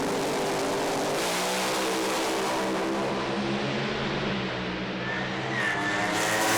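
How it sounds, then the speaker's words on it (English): Pro Alcohol funny car drag racers rev their engines on the start line at an East Coast Thunder meet in Sydney, a loud, continuous roar with rising revs that builds steadily from close by. "Both funny cars into stage. You can hear the revs building up here."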